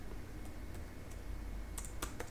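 Keys clatter on a computer keyboard as code is typed, a few soft scattered taps followed by a quick cluster of sharper clicks close by, with no talking.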